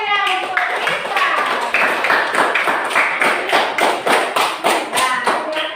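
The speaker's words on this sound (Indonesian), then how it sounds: "kita beri tepuk tangan yang meriah untuk Rizka." A classroom group claps for a student presenter, with a voice speaking at the start before a run of fairly regular, close hand claps that continues to the end.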